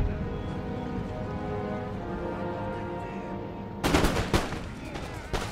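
A musket volley fires in the historical strategy game Empire: Total War, a sudden burst of crackling shots after a stretch of quieter ambience, with a few more loud reports following close together.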